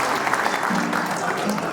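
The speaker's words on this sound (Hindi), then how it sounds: "एक बार जोरदार तालियां पूरे गुर्जर समाज के लिए।" Loud, dense applause from a crowd at a Gurjar community day celebration, a steady wash of clapping filling the space for the whole stretch.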